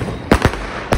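Diwali firecrackers from a multi-shot pack go off outdoors, three sharp bangs in quick succession, loud and close, with no talking.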